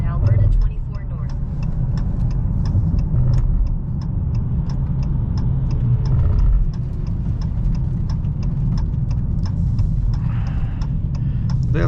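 Steady, close engine drone from a 2022 Dodge Challenger Hellcat with its 6.2-litre supercharged engine, driving at speed, with a continuous low rumble and faint ticking throughout.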